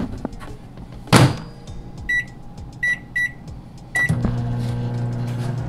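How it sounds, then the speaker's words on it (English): A microwave oven hums along after a door clunk and a few beeps, its steady low drone continuing to the end. "Then we're gonna put it in the microwave for 3 minutes."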